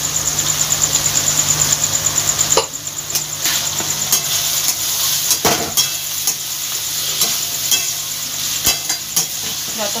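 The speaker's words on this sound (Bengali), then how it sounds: "যতক্ষণ না কাঁচা গন্ধটা যাবে রসুনে আর আদা, ততক্ষণ তেলের মধ্যে এটা ভালোভাবে নেড়ে যেতে হবে।" Garlic and ginger paste stirred and fried in hot oil, a steady sizzle with scraping stir strokes, close and continuous, louder at first then settling into intermittent spoon scrapes.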